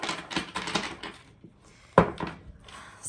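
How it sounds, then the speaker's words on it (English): A deck of tarot cards is shuffled up close, giving quick bursts of crisp clicking and riffling with short pauses, then a sharper snap near the end. "I'll give this one more good shuffle"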